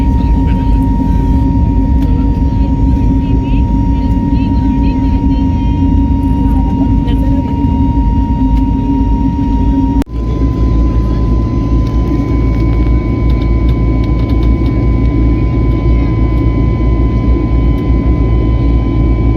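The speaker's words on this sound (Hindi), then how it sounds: "जैसे ही विमान ने उड़ान भरी" A passenger jet airplane taking off at night on a flight from Navi Mumbai, heard from inside the cabin as a loud, constant engine roar and rushing noise with a steady tone and a brief shift halfway through.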